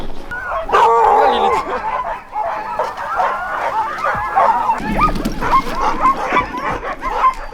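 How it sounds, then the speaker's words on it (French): Excited sled dogs in a snowy northern setting bark, yip and whimper in a dense, overlapping chorus, close and loud, with a few voices mixed in. "Actuellement, on se dirige vers les chiens de traîneau."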